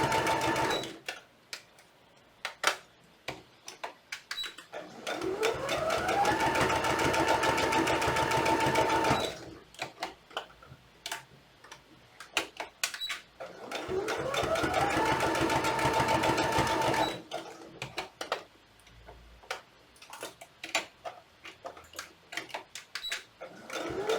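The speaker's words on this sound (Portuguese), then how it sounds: "Pode costurar direto e fechar todo esse pezinho." A sewing machine stitching the foot of a teddy bear runs in two long bursts of rapid, even whirring with a rising motor pitch. Clicks and handling noises fill the pauses in between.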